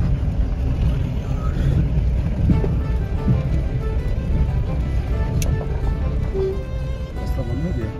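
A car jolts and rattles along a rough, badly broken mountain road from Govindghat toward Pulna, with steady engine and road rumble heard from inside and voices talking over it throughout.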